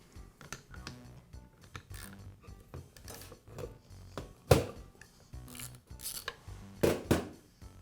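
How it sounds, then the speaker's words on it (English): The oil plug comes out of a Skilsaw gearbox with a quiet run of metallic scrapes, rasps and small clinks, a few sharper knocks standing out near the end. "I'll remove the oil plug"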